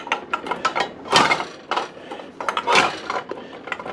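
Hot glass canning jars of chicken clink and knock as they are handled with an oven mitt, a series of close, sharp glassy taps and clatters with brief rattles between them.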